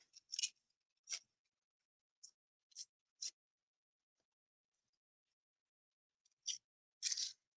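An altered playing card is torn by hand in short, sharp ripping bursts, a handful of brief close tears separated by quiet pauses, crisp and near with no talking.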